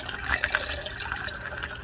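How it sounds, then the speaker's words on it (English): Water runs steadily into a brewing pot partway full for a country-style pumpkin beer, a close, continuous splashing hiss with no talking. "Now is the part where I'm going to put in some more water to fill it up"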